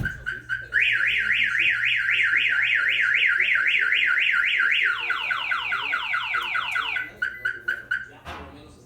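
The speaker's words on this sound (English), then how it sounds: "If the vehicle is hit or any of the doors are pried open, it will set off the alarm." A Viper aftermarket alarm on a 2017 Toyota Highlander sounds off close by, running through a rapid warbling siren, then a faster falling sweep, then steady chirping tones before cutting out.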